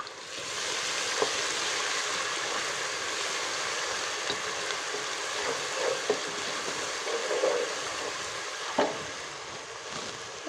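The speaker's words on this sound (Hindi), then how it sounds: "अब इसको थोड़ी देर फ्राई करेंगे।" Ginger, green chili and garlic paste fries in hot oil, giving a steady dense sizzle with a few soft pops and stirring clicks, close and continuous without voices.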